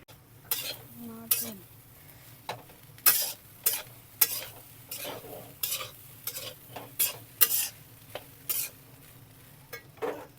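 A spatula stirs egg rice frying in a pan, scraping in quick irregular strokes over a soft, continuous sizzle, close and alone, with no talking.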